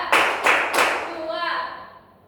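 A schoolroom class claps together on command, three sharp synchronized claps in quick succession, followed by a short ringing tail.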